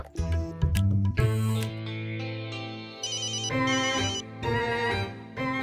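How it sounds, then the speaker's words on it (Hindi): A telephone ringtone plays loudly and steadily with no pause, its bright electronic melody shifting between patterns, set in a comedy series office scene. "फास्ट फास्ट फोन उठाओ।"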